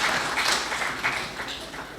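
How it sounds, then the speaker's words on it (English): Audience applause at a tribute and magazine launch event, a short stretch of steady scattered clapping from a gathered crowd, moderately loud and continuous. "Serin, you've got to stand up and we give you a round of applause"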